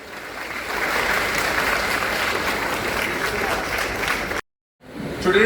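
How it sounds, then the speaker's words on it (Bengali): Loud, sustained clapping from a crowd at a World Environment Day sapling-planting event as guests hand over young plants, rising quickly and holding steady before a sudden brief cutoff, then resuming. "জোরে হাততালি।"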